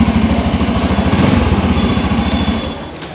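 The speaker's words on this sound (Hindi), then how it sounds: "तो चलिए मैं आपको इसका एग्जॉस्ट नोट सुना देता हूँ कि आपको इसका एग्जॉस्ट नोट कैसा मिलता है।" Exhaust note of a 2024 Bajaj Pulsar N250 motorcycle, a steady, pulsing low idle throb heard close and loud, with no talk over it.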